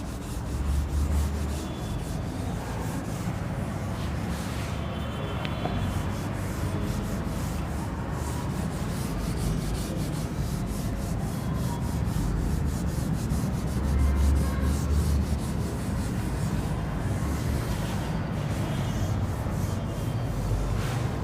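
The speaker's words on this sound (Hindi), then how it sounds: "चलो मैं इसको रब कर देता हूं।" Writing is rubbed off a board during a maths lecture, giving a continuous scratchy rubbing sound with repeated strokes over about twenty seconds, near and fairly loud, with no talking.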